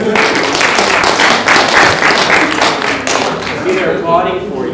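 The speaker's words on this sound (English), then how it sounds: "See, they're applauding for you already." Audience applause fills a university lecture hall at a student-organized talk, a dense, steady wash of many hands clapping close by with some heavier taps, continuing without pause before tapering slightly near the end.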